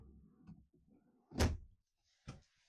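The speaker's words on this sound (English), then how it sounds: "Of course, pull out drawers." A pull-out drawer in a 2019 Newmar Canyon Star 3627 motorhome slides open with a soft rumble, then a sharp clack as it stops, followed by a lighter knock a moment later.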